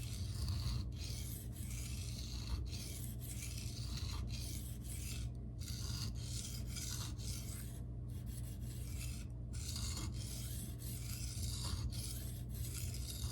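A ProCut knife is sharpened freehand on a Shapton Glass whetstone, with soft, steady rasping strokes repeating at an even rhythm and brief pauses between passes. The sound is close and quiet, with no talk.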